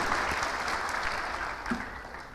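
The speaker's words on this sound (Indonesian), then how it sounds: "boleh beri tepuk tangan untuk Tuhan." A church congregation claps together in steady, dense applause, fairly close and sustained throughout, easing slightly toward the end.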